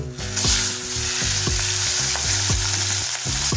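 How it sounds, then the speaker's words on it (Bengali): Fish fat frying in hot oil with turmeric over a low flame, a loud, continuous sizzle broken by regular knocks of stirring, close up and with no talking. "এটাকে আমরা প্রায় মিনিট ধরে লো ফ্লেমে ভালোভাবে ভাজা করে নেব।"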